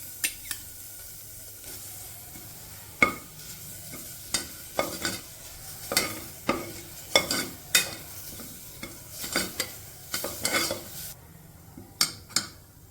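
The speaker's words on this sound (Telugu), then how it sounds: "ఆనియన్ వేసిన తర్వాత అది అవుతూ ఉండగా అల్లం వెల్లుల్లి పేస్ట్ వేస్తున్నాను" Onion fries in a pot for a dinner soup as ginger garlic paste is added. A soft sizzle runs underneath while a spoon stirs and scrapes against the pan in repeated sharp knocks.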